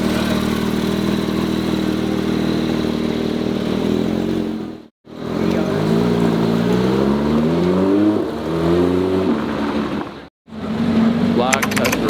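Black Ferrari Testarossa engine, a close rough idle rising into repeated revs with rising and falling pitch, broken by two short drops, while a voice speaks over it.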